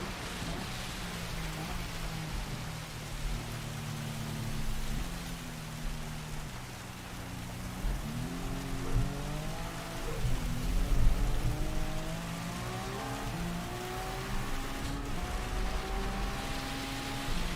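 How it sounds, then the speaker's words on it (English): Heavy, torrential rain hisses continuously over a Gran Turismo 7 race at Le Mans, with race car engines whining and shifting pitch underneath as cars accelerate through corners; no voices. "Yellow rain, yeah, that is pretty torrential overall."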